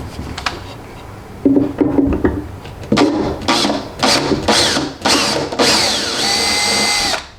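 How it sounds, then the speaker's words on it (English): A power drill pre-drilling wood whirs in short, loud bursts close by, stopping and starting several times, then runs a longer steady stretch. "And then I'm going to pre-drill."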